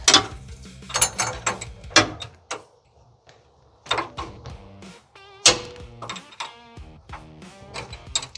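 Metal clicks, clanks and ratcheting turns from a nut being tightened on an excavator hydraulic quick hitch, close and intermittent in short bursts with brief quiet gaps between them.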